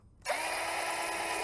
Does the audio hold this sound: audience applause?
no